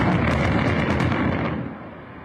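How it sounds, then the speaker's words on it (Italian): A controlled blasting charge shatters boulders on a rocky ridge above the main access road into Taormina, Sicily, giving a loud, sustained rumbling roar of explosion and falling rock that fades out near the end. "Un'esplosione spettacolare, quella dei massi che a Taormina rendevano pericolosa la via principale di accesso alla città"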